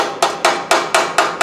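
A small hammer taps a dented tin toy car, a 1956 Radicon, resting on wood: five to six crisp, evenly spaced metallic taps, close and clear, with no other sound.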